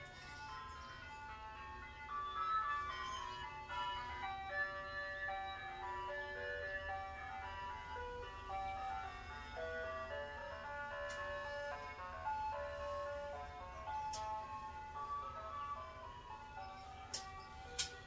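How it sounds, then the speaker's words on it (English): An ice cream truck's jingle drifts in from outside as the vehicle passes, a tinkling electronic melody heard at a distance, fairly faint and steady with a few sharper clicks near the end. "That's outside, that's the ice cream truck."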